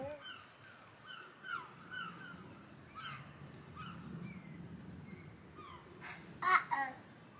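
Outdoors, a crow caws repeatedly in short hoarse calls at a moderate distance, with a louder cluster of calls near the end over a low background murmur.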